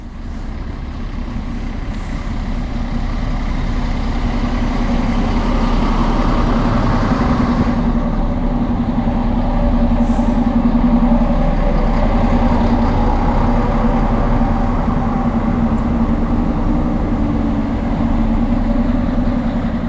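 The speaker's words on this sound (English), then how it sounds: "we can take a look at the arrival of the RegioShuttle" A RegioShuttle regional diesel railcar engine rumbles steadily and loudly close by as it arrives at a station on the Teck Railway, a continuous low drone with a rising hum as it pulls in, no voices.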